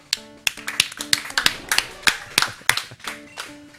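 A person claps their hands a dozen or so times at a steady, fairly quick rhythm, sharp and close, with faint tones underneath.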